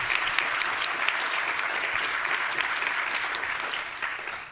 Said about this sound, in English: I'll ask you to give them a quick round of applause for having the courage to run.